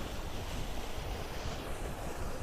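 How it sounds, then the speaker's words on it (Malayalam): A flowing water current at a fishing spot produces a steady, broadband rushing roar, loud and continuous, with wind buffeting the microphone and no speech. "ഇവിടെ വെള്ളത്തിൻ്റെ ഒഴുക്കിൻ്റെ നല്ല സൗണ്ട് ഉണ്ട്."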